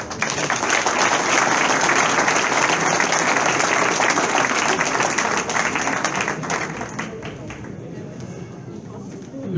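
A crowd applauds a departing ASM figure, with loud, sustained clapping that stays dense for several seconds, then thins and fades toward the end.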